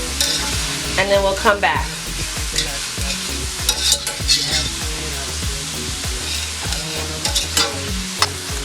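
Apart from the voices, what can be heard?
sautéing thyme sprig in a pot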